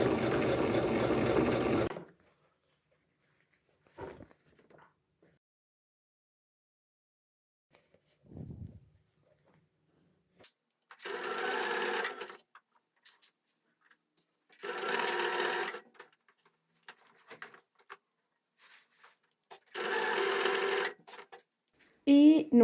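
A sewing machine stitches a seam on homemade period underwear in three or four separate bursts of a few seconds each, with quiet pauses between, plus a longer run at the start; no talking is heard.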